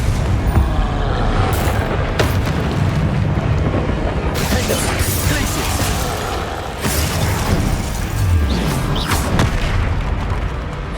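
The Confringo explosive spell in Hogwarts Legacy goes off as loud, rumbling blasts and booms, a dense, continuous barrage of bursts during combat.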